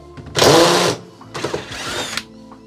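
Power drill backing screws out of a Bosch condenser clothes dryer, two loud close whirring bursts, the first about half a second long and the second slightly longer, with quiet pauses between them.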